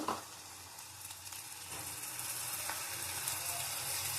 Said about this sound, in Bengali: ভালো করে ভেজে নেব দেখো রসুন বাটা দিলাম